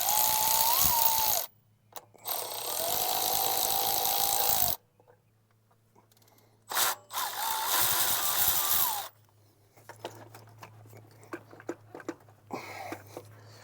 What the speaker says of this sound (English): Now I'm just removing that pulley so I can get at these two nuts.